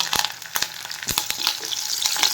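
Curry leaves sizzle and crackle in hot oil in a pan, with several sharp popping bursts over a steady close frying hiss and no talking.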